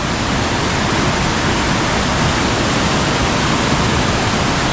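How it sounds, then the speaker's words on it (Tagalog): A loud, unbroken roar of strongly rushing water on a farm, close and constant from start to finish. "Ang lakas ng tubig."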